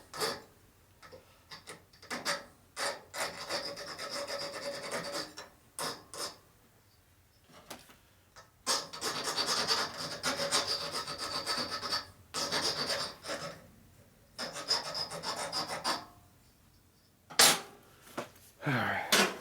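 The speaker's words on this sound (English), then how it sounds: "Putting a 45 chamfer on it." A 45-degree chamfer is filed onto a metal part for a 1941–72 WL motorcycle, heard as close, uneven bursts of rasping strokes with short pauses between them.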